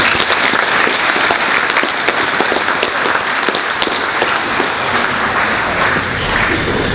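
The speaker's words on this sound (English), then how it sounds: "Please give all students a round of applause." At a school achievement assembly, a large gathering applauds students with loud, continuous, crowded clapping that stays strong and even for the full seven seconds.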